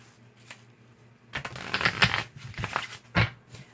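Tarot cards are shuffled in a quick riffle, a dense papery flutter with a few sharp snaps, close and fairly loud.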